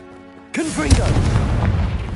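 Confringo blasting spell in a Harry Potter video game, one sudden loud boom that erupts after a quiet moment and trails into a rumbling, crackling roar. A voice casts the spell just before the blast.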